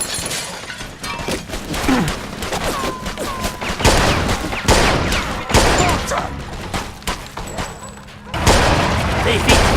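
Machine gun on a balcony firing in the video game Mafia II, loud sustained bursts with crashing, shattering impacts, and voices speaking over the gunfire.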